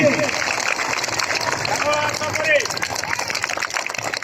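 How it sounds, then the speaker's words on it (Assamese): Loud applause mixed with ululation from the crowd at a school festival stage opening, a dense sustained roar of clapping with high trilling cries and voices throughout. "ডাঙৰ হাত চাপৰি আৰু উৰুলি।"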